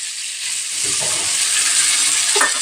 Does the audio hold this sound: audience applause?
no